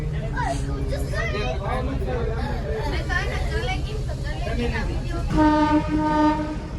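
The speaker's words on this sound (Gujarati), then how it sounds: "ઉપડી ગઈ આપણી ટ્રેન વિસાવદરથી સીધી સાસણો" An old train pulls out of Visavadar toward Sasan on a Gujarat forest line: a steady low engine drone under a busy murmur of passengers talking, then a long tonal horn blast near the end.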